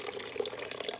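Hot water from sterilized canning jars pours steadily into a sink, a continuous close splashing, trickling flow with no voices.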